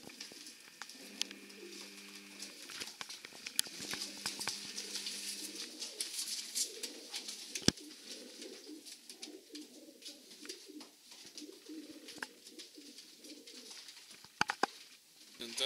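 Pigeons coo in soft, repeated low phrases nearby, with occasional clicks, flaps and shuffling sounds scattered throughout.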